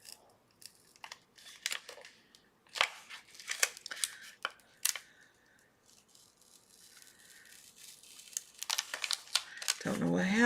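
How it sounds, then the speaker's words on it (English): Intermittent crackling and crinkling as backing paper is peeled off a card stock cutout, close and fairly quiet, in short irregular bursts with a louder rustle at the end. "So you keep it upside down when you peel this off."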